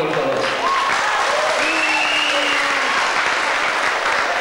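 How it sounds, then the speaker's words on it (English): Loud, continuous applause fills a kickboxing venue in 1988 after a bout ends in a technical knockout, the crowd clapping thickly and evenly with a few faint voices and whistles rising through it. "Give the two guys a big round of applause."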